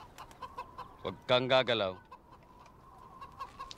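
Chickens clucking close by, with a loud burst of clucks in the middle and softer scattered clucks before and after, while someone speaks briefly.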